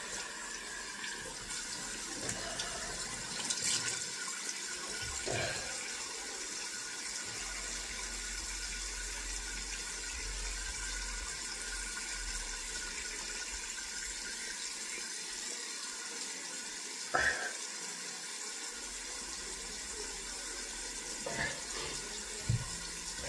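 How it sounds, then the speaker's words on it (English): Tap water running steadily into a sink while a fish is washed, a constant hiss and splash with a few faint clunks, close and without talk. "let's wash my fish real quick"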